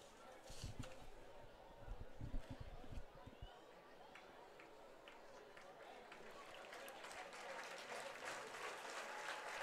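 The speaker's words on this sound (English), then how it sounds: "He gets a round of applause from the fans here." Fans applaud at a USPBL baseball game between the Westside Woolly Mammoths and Birmingham-Bloomfield Beavers, faint distant clapping and crowd noise, with a few sharper claps early on.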